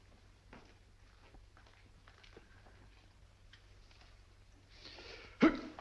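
A single sharp sneeze bursts out near the end after a quiet stretch of soft shuffling and faint background noise.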